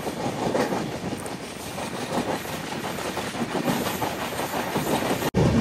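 The AP Express rolls along the tracks with a continuous loud rumble and rhythmic clickety-clack of wheels on rail joints, heard close and steady, with a sharp brief dropout near the end.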